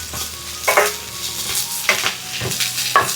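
Crushed ginger and garlic sizzle in hot oil in a pan while a spoon stirs and scrapes, giving a steady frying hiss broken by several sharp metallic scrapes.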